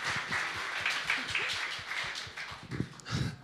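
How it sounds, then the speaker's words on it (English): Audience applause and cheering at a hackathon opening ceremony in Berlin, a dense wash of clapping throughout with a few louder whoops near the end. "Big applause!"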